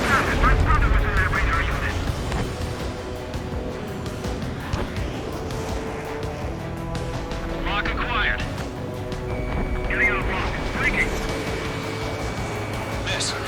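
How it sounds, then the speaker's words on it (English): Ace Combat 7: Skunks Unknown-style air combat with a missile launching amid a dense, loud mix of jet roar, booming explosions and gunfire, radio voices talking over the action throughout. "Page 2, missile away."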